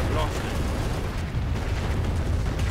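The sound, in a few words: heavy rocket barrage explosions in a strategy video game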